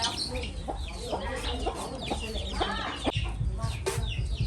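Hens cluck steadily while a rooster calls among them, a busy, continuous farmyard chorus of overlapping fowl voices at close range.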